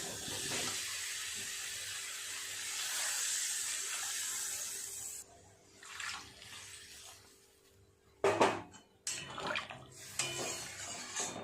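Water pours from a tap or jug into a pan of spiced potatoes and pointed gourd, a steady rushing pour for about five seconds, then softer splashes and clanks of the pan.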